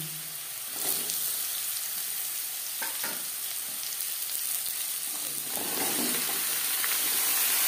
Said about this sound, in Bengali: জিরে শুকনো লঙ্কা ভেজে নেওয়ার পর দিয়ে দেবো লাউ।